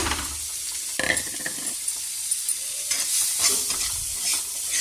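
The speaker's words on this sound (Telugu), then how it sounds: "వేసి ఫ్రై అవుతుండగా ఈ గార్లిక్, ఆనియన్, గ్రీన్ చిల్లీ కూడా వేసేస్తాము" Garlic, onion and green chilli sizzle and fry in a pan, with a steady crackle and occasional stirring scrapes close by.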